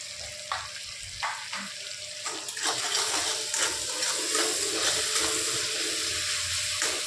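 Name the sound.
ground spices stirred in hot oil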